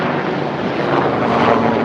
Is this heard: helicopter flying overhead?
yes